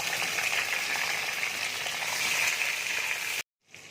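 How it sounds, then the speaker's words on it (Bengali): Tomatoes and bay leaves frying in hot oil, a steady loud sizzle and crackle that continues evenly before cutting off abruptly near the end. "তেল দেখো গরম হয়ে গেছে, এবার আমি তেজপাতা দিয়ে দিচ্ছি। এবার আমি টমেটো দিয়ে দিচ্ছি।"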